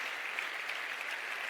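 An audience applauds at a sports awards ceremony, a continuous even wash of many hands clapping, soft and distant, filling the short stretch with no voices.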